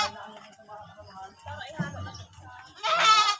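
A goat bleats loudly near the end after a stretch of quiet conversation, with the bleat coming through clear and close.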